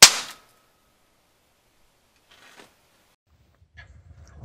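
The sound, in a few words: stud welder firing a stud onto a shaft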